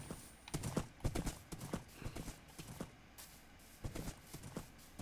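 A horse gallops in Minecraft, quick irregular clip-clop hoofbeats in clusters, fairly quiet and up close, with no talk over them.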